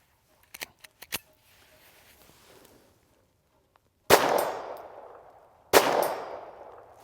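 Two loud, sharp shots from a TX-22 pistol crack out about a second and a half apart at an outdoor range with targets set at long yardages, each followed by a ringing decay. A few faint clicks and handling noises come before them.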